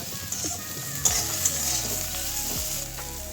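Bitter gourd frying with nigella seeds is stirred in a pan, giving a steady hiss of sizzling oil with scattered scraping clinks from the stirring utensil, close and fairly quiet.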